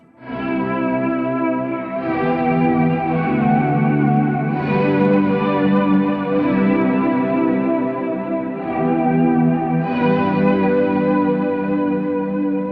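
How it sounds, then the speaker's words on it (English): Sustained electric guitar chords through a Revelation Reverb 2.0 pedal, drenched in lush, wet reverb with a shimmering modulated swirl, ringing continuously with new strums around a few points, no voices. "And even more of the reverb with more of a wet sound."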